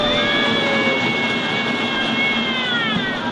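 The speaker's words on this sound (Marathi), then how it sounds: "ही टॉय ट्रेन गेली दोन वर्ष मुलांना आपली सैर घडवत आहे" The Fulrani toy train runs through Peshwe Park: a steady rolling rumble with high, sustained metallic wheel squeals drifting over it, loud and continuous throughout.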